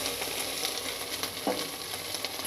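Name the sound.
yardlong beans frying in oil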